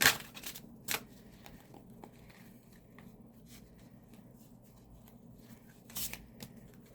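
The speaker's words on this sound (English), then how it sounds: "So I'm just going to go ahead and shuffle." Soft riffling and sliding of tarot cards being shuffled, a few sharper snaps near the start and end over a quiet room.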